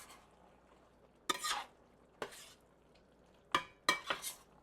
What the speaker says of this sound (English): And then give that a good mix